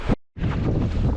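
Wind gusting and roaring past the microphone on a small sailboat out on a lake in strong Force 6 conditions, a brief buffet, a short lull, then a steady loud rush of blustery air and water noise.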